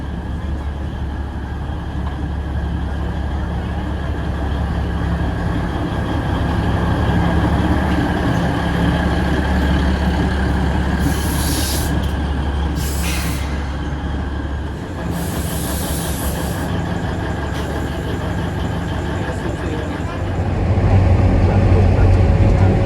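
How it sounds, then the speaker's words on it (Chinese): An Alishan Forest Railway train arrives at a mountain station with a steady low rumble of wheels and carriages, brief high squeals of wheels on rail in the middle, and a rising roar at the end. "列车即将进站，为了您的安全，请不要跨越月台黄线，以免发生危险。"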